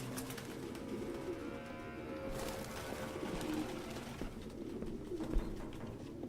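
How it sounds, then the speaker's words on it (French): In the video game Detroit: Become Human, pigeons coo in soft, repeated low burbles that overlap in a steady flock murmur, with faint flutters and small clicks in a quiet room. "No human could live with all these fucking pigeons."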